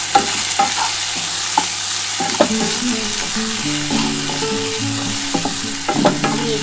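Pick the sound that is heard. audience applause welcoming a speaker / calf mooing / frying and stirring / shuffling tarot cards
frying and stirring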